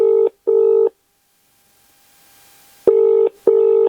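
Telephone keypad dialing for a call: four loud, close touch-tone beeps, two quick ones, a pause with faint hiss, then two more, with no voices.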